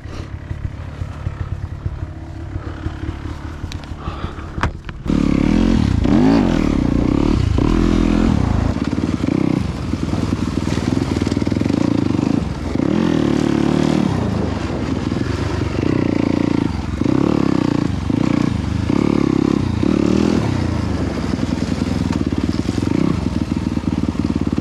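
A two-stroke or four-stroke motorcycle on a Highland Park ride with a faulty clutch and throttle revs hard and close, its engine roaring and surging continuously for most of the stretch after a quieter opening.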